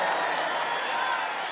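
A large rally crowd at a presidential campaign event in Allentown, Pennsylvania cheers and applauds in a dense, steady roar of clapping and voices that fills the whole moment without a break.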